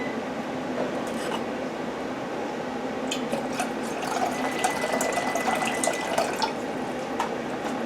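Vinegar pours into a pot of water for pickling-egg brine, a steady close liquid stream that gets busier and splashier partway through, with no one speaking.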